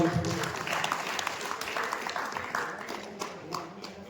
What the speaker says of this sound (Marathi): एकदा जोरदार टाळ्यांचा आपण गजर करूया